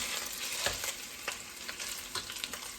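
Cold leftover rice frying for dirty rice in a pan, giving a steady close sizzle with scattered crackles and stirring scrapes and no talking.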